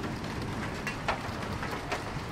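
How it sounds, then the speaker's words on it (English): Rain falls steadily during a European storm, a dense close patter with occasional louder drops spattering on a surface, with no talking. "Rain started a bit earlier than I thought it would"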